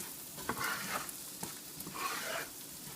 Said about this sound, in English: I'm going to go ahead and just kind of roast this all down in with the butter